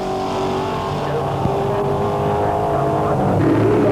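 A Bobcat Mustang race car in a 1982 ASCAR Challenge Series race roars past with a sustained engine howl among other racing cars, while a race commentator talks over it.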